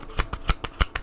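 Tarot cards being shuffled in close, quick bursts, five or six crisp riffling pulses spaced evenly, fairly loud with no talk over them.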